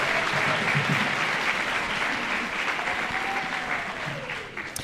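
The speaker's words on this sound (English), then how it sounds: "How about another round of applause?" Audience applause fills a school band spring concert hall after a seventh-grade performance, a steady dense wash of many hands clapping at moderate level, tapering slightly toward the end with a faint cheer mixed in.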